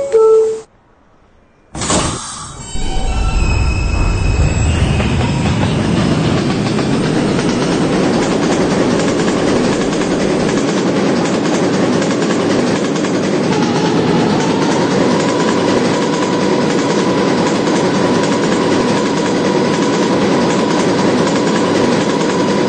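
An R160B subway car on the B line rolls along the rails, starting from a short burst of noise and building into a loud, continuous rumble and rail roar with steady clatter that lasts to the end.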